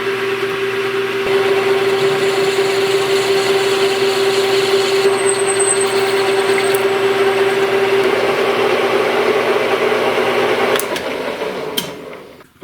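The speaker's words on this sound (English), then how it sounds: "I have to drill a hole in the center, thread it onto the shaft here of the saw" Power drill boring a hole through the center of a round steel shaft for a homemade chainsaw-powered drill, a steady loud motor whine with a constant tone, cutting off abruptly near the end.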